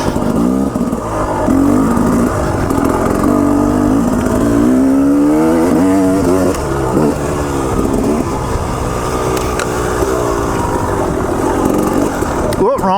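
KTM 300 two-stroke enduro dirt bike ridden along a wooded trail, a loud continuous buzzing engine rising and falling with throttle changes, recorded close from the rider's position.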